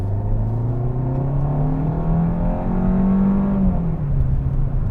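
A 2021 Kia K5 sedan with an 8-speed automatic accelerates under a steady, loud engine drone whose pitch climbs smoothly for a few seconds, then dips as the transmission shifts. Nobody speaks.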